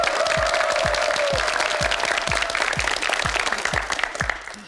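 Studio audience on a Korean quiz show applauding steadily at close range, a dense continuous clapping that holds for several seconds before beginning to thin out at the end, with a faint voice briefly audible early on.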